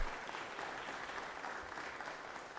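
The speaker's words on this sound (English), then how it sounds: "Rise, everybody, and clap for these wonderful young ladies." Brief, steady applause from members rising in the Georgia Senate chamber, a dense wash of clapping from a roomful of people.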